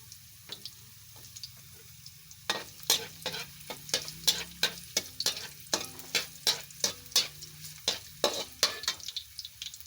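Ginger stirred and frying in a home kitchen pan, with a soft sizzle under a run of sharp, rhythmic scrapes and clinks of a spatula that begin after a quiet start and continue steadily up close.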